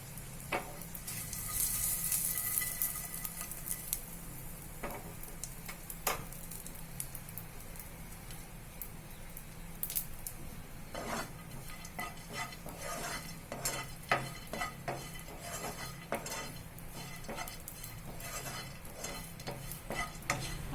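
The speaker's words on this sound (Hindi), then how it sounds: "किशमिश बादाम डाल के हमें इसे हल्का सा रोस्ट करना है।" Raisins and almonds roasting in a little ghee in a pan, with a spoon stirring in steady scraping strokes over a soft, continuous sizzle, close by and fairly quiet.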